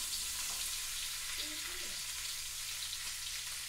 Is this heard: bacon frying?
yes